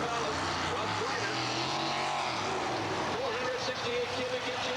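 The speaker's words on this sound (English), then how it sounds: "468 cubic inch engine" A 468 cubic inch race car engine roars loudly with a rough, pulsing drone that swells and shifts pitch as the car works to put power down, with an announcer's voice over it.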